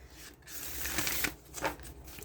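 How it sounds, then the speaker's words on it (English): A deck of tarot-style oracle cards is shuffled in a few quick riffling bursts, close and crisp, with no talking. "I've found that these cards really stand up to even the more rough shuffles that I do"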